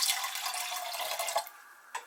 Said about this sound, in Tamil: அப்புறம் பருப்பு மூழ்கிற அளவுக்கு தண்ணி சேர்த்துக்கோங்க.